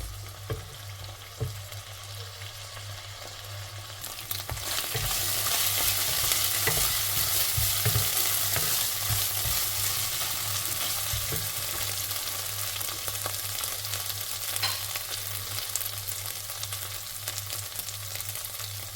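Curry ingredients fry in a pan, a steady bright sizzle swelling louder partway through, with close scraping stirs recurring over a low kitchen hum and no speech.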